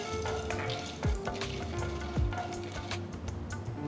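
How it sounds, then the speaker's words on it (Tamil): Steady crackling and popping of mustard seeds and lentils frying in hot oil, with a couple of faint clinks of a utensil against the pan. "1/2 டீஸ்பூன் கடுகு, 1 டீஸ்பூன் உளுத்தம்பருப்பு, 1 டீஸ்பூன் கடலைப்பருப்பு சேர்த்து வறுத்துட்டு"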